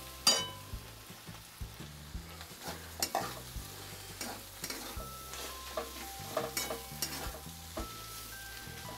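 Chopped onion and roasted green chickpeas fry in a pan for a Maharashtrian harbhara thecha, with a steady soft sizzle and repeated close scraping and clinking as a spoon stirs them.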